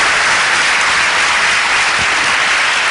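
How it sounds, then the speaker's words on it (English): Audience applause for literary festival speakers at a panel session, a steady dense wash of clapping from a large seated crowd that fills the whole stretch without pause. "if we could have a round of applause for our speakers today"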